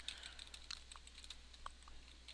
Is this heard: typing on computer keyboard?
yes